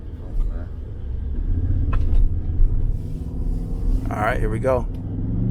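A Ford F-150 with a V6 turbo engine rumbles as it pulls away from a launch in 4-wheel drive, a steady low drone rising gradually, heard from inside the cab while someone talks over it.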